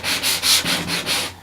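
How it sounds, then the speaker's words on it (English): Sanding block rubbing along the edges of scrapbook paper on a letter block, six rhythmic back-and-forth scratchy strokes, close and steady with no talk. "or we got a sanding block right here"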